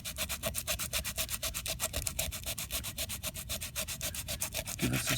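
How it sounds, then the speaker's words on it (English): Coarse sandpaper is rubbed by hand around a masked-off repair area, a close, steady back-and-forth scraping in a fast, even rhythm with no talk. "some coarse sandpaper that will sand all around the area."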